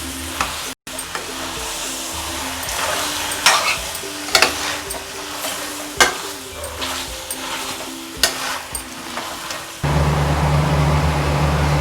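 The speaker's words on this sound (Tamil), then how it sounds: "நம்ம சிக்கனை போட்ட பின்னாடி இந்த மாதிரி நல்லா மிக்ஸ் பண்ணி விடலாம்." Chicken for a peanut chicken gravy is stirred and mixed in a frying pan, with loud, steady scraping and sizzling, spoon knocks against the metal, and a hissing roar rising near the end.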